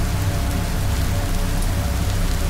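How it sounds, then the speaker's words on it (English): Steady rain in a video game falls on a hard surface, a dense continuous patter with no pauses, fairly loud and close, no voices. "It's raining."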